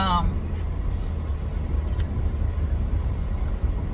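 Steady low rumble of a car being driven, a continuous close road and engine drone holding level throughout, with no voices over it.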